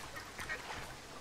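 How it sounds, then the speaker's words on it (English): Ducks quack faintly in the distance in the video game Firewatch, a few brief calls over a quiet outdoor forest ambience. "I hear ducks, but that's about it."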